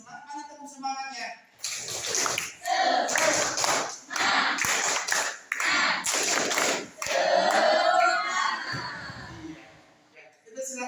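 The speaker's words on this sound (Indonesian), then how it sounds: "Mana tepuk semangatnya?" A school class claps in rhythmic bursts, a patterned spirit clap with pauses between rounds, loud and close, with a teacher's voice before and between.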